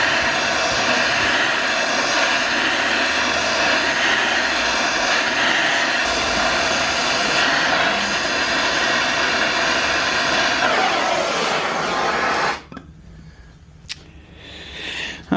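A MAPP gas torch roars steadily and loudly while heating the inner race of a bearing on a Foden Fleetmaster 8-speed gearbox shaft, then cuts off abruptly near the end, leaving quiet workshop background.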